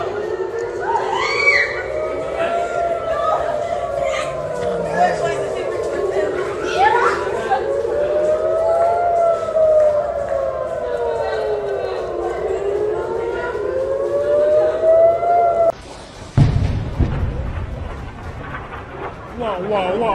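An air raid security siren wails at night, rising and falling in long cycles over crowd noise, then cuts off abruptly, followed by a low rumble and background commotion.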